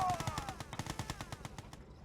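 Rapid burst of Gatling gun fire from a unit in the strategy game Yuri's Revenge, a fast, steady rattle of shots lasting under two seconds before cutting off, fairly faint in the mix.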